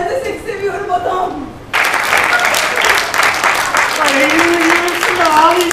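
Theatre audience applause erupts suddenly and loudly after a short line of speech, then holds as a dense, steady roar of clapping while voices carry on over it.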